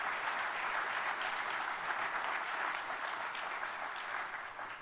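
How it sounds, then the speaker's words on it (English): A sheriff's office awards ceremony crowd gives Corporal Jay Martinez sustained applause, an even, distant-sounding wash of many hands clapping at a fairly quiet level, easing off at the end. "Big round of applause for Corporal Jay Martinez and all he and his team do."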